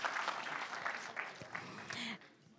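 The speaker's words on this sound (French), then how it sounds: "Vous pouvez en effet applaudir les signataires" Audience applause for the signatories at a university partnership closing event, a soft, fairly distant wash of clapping that fades out toward the end, with a faint voice near the close.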